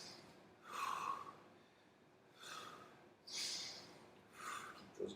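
Heavy, effortful breathing during a plank hold in a conditioning workout, with several loud huffing exhales and sharp snorting breaths spaced a second or two apart, close and alone without talk.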